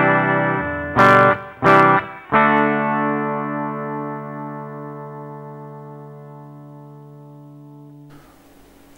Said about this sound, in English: here's our clean sound. We're using a PV Wolfgang straight into a Fender Hot Rod